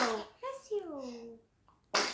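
A sharp, explosive sneeze bursts out at the start and again near the end, with a short stretch of spoken voice in between.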